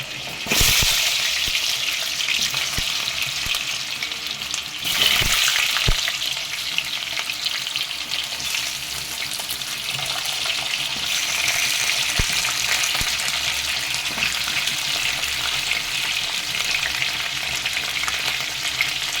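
Potatoes frying in hot oil for Kashmiri dum aloo, a steady dense sizzle that runs close and loud throughout, with a few brief stirring knocks near the start.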